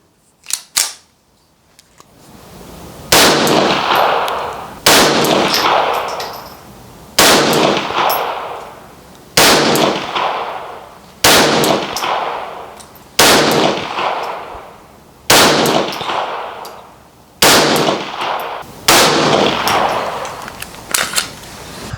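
Sharp shots from a Ruger Mark IV .22 LR pistol fired at a 25-metre range, about ten loud cracks at roughly two-second intervals, each followed by a short echoing decay, with no talking.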